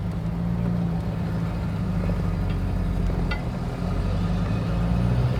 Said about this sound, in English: I'm gonna go to first gear, and off we go